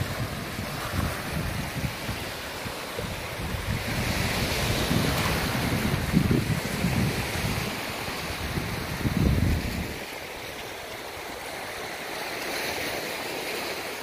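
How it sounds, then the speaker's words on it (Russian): Sea waves wash onto the Italian coast near Rome, a steady rolling surf with wind buffeting the microphone, swelling and receding for about ten seconds before easing into a softer wash. "не хочется ничего не говорить, а вот только слушать шум моря"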